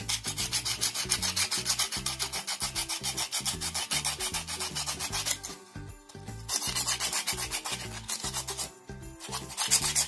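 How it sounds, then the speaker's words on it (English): Sandpaper scrubs a coconut shell in steady back-and-forth strokes, a close, loud, rhythmic rasp with a brief pause midway and another near the end. "Take some coconut shell, scrub with sandpaper like this"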